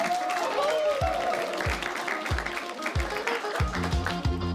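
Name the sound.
applause welcoming contestants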